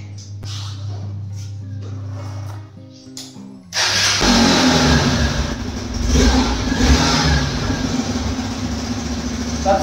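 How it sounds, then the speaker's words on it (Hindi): A low engine idles with a few sharp blips, then roars into loud, sustained revving of the exhaust that rises and falls. "अब इसके एग्जॉस्ट की आवाज सुनाता हूं आपको"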